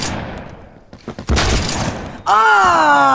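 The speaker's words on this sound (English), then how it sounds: "I'm using a shotgun now" AA-12 shotgun with drum magazine in Roblox Phantom Forces, a burst of loud, close blasts and shattering impacts, followed by a bright tonal game sound near the end.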